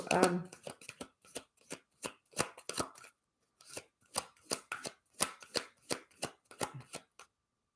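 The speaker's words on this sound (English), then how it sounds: "So Alex, we're going to get a card for you." Tarot and oracle cards being shuffled by hand during a live reading, a steady run of crisp riffling bursts and slaps close by, with a short pause partway through.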